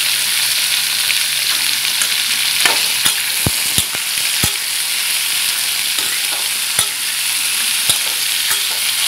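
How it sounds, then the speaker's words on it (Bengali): Potato pieces frying in a pan for an aloo paneer curry, a constant bright sizzle with occasional sharp knocks and scrapes from stirring, loud and near, no voices. "তো দেখতে পাচ্ছি যে আমাদের আলুটা ফ্রাই হচ্ছে"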